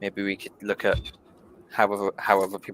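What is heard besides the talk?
No everyday noises stand out.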